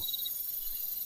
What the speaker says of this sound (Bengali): তার সঙ্গে ঝিঝি ডাকছে